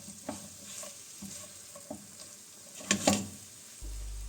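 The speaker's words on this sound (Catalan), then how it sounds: "remeno ben remenat perquè l'oli s'esparceixi per totes les cebes i d'aquesta manera a foco lento" Chopped onions sizzle gently in oil over low heat as a base for paella, with a utensil stirring and scraping through them in a few soft, close bursts.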